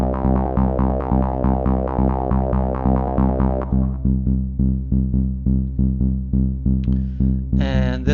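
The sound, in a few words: trance low-end bass layer from Minordic synth preset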